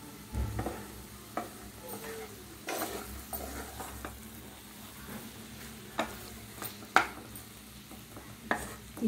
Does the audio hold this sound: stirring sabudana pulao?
yes